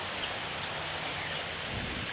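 Steady, dense hiss of heavy rain pouring down without a break in Calatrava, Negros Occidental, loud and constant, with no voices.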